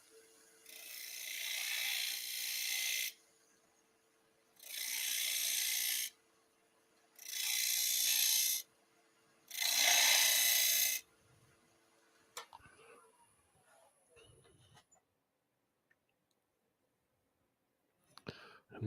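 Woodturning tool cutting a series of small coves on a lathe: four loud, hissing cutting passes of about two seconds each separated by pauses, followed by quieter scraping and tapping before silence.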